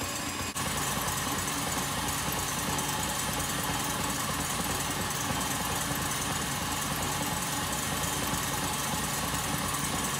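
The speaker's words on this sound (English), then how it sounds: "I'm using the whisk attachment. It is the best attachment to use when mixing a meringue." A stand mixer with a whisk attachment whips meringue, giving a constant loud motor whir with rattling vibration that runs unbroken throughout, close and without any talking.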